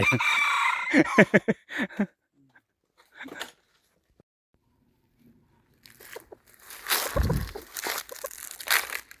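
A rooster crows near the start, a loud drawn-out call amid other sounds, followed by quiet and then close, rough rustling and crunching.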